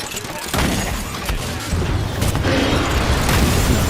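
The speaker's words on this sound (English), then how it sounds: "Oh my gosh, so many grenades!" Rapid grenade explosions boom in a video game, a loud dense barrage of blasts and crashes rolling one after another with heavy low rumble and scattered debris.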